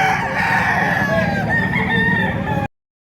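A live Boston breed rooster crows loudly and close at a busy poultry sale, one long drawn-out call with background clucking before it cuts off abruptly.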